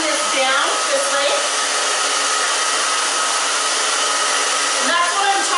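A handheld hair dryer blows steadily and loudly as a medium-sized round brush works through hair, a continuous airy roar that holds constant throughout with only slight shifts in pitch.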